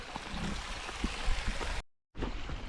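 Steady rushing of flowing river water below hot springs in Konkan, moderately close, broken by a brief dropout near the end.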